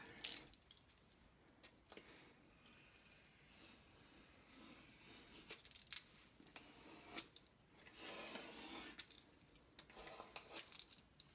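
A sheet of vinyl cut out after a dry hinge installation, heard as faint rasping, rubbing and snipping strokes in short bursts, with a longer scraping stretch near the end, quiet and close with no speech.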